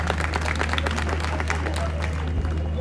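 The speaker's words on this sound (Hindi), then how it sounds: "आप सब भी स्वागत कर दें, तालियों से अच्छा रहेगा" Crowd clapping to welcome a candidate at a Delhi MCD election rally, dense applause over a steady low hum from a sound system, continuous and fairly loud.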